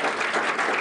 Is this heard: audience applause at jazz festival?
yes